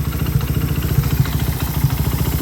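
A carbureted Bajaj Raider 150 motorcycle idles up close with an unsteady RPM, its low engine chug pulsing unevenly and wavering in rhythm throughout.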